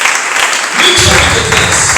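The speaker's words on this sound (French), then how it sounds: "Acclame très fort pour la gloire de Jésus." A church congregation bursts into loud applause and cheering during a prayer service, dense clapping swelling after the first second, with voices mixed in.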